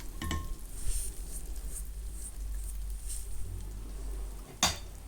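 Popcorn kernels coated in butter are stirred in a hot pan, giving a continuous soft sizzle with light scraping and clinks of the utensil against the pan, and one sharper knock near the end.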